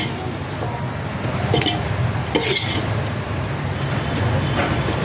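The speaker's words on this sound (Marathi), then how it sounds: "हे सर्व जिन्नस घातल्यावर आपल्याला हे सर्व मिक्स करून घ्यायचं आहे" Chicken dum biryani masala being stirred in a pot over a village wood-fired stove, with soft scraping strokes over a steady low rumble and background hiss.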